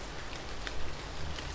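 Soft, steady rain falls as a faint, even hiss with a few scattered drop taps.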